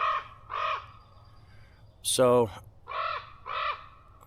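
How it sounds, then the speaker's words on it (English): A raven circling overhead gives four harsh caws in two pairs, moderately loud, with a brief spoken word between them. "there's a raven circling that's just unhappy."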